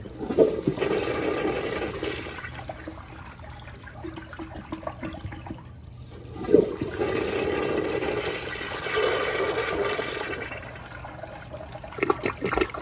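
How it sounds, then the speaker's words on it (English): A new-old-stock 1994 Eljer Kindergarten toilet mounted on a mid tank flushes in two surging waves of rushing water, with a brief clunk between them and a trickling refill near the end, heard up close with no talk. "For this flush, I am going to let it flush just enough to initiate a siphon."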